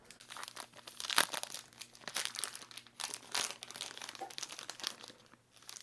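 A Snickers Pecan bar wrapper crinkles and crackles as it is torn open, in irregular bursts of crisp plastic rustling close to the mic, with no speech.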